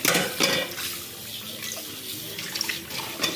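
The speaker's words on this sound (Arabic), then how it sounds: "صوت الماء" Water runs steadily from a kitchen tap during a cleaning session, a close, broadband splashing rush with a few brief louder spurts as it hits the sink. No one speaks.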